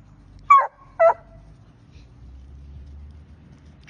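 Two sharp barks from a coonhound treeing during training, spaced about half a second apart and fairly close, followed by a low rumble of quiet background noise.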